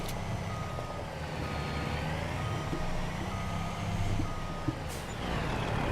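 A truck in Farming Simulator 25 backs up with a steady series of reversing beeps over its idling diesel engine and a short air-brake hiss, heard alone without talk.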